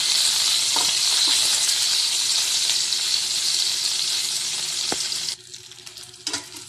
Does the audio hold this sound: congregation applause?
no